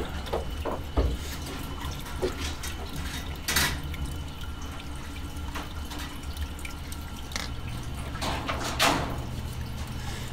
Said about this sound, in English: You can see water pouring in around the water service pipe.